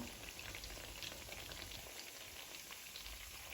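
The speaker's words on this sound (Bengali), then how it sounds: "এই পাশটাও আমি লাল লাল করে ভেজে নিব" Shrimp pakoras frying in hot oil give a steady dense crackle and sizzle, close and even throughout, with no talk.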